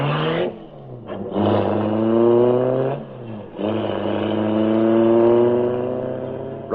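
A radio-drama race car effect, an engine revving and accelerating in long rising sweeps with brief gear-change dips, loud and close with no voices over it.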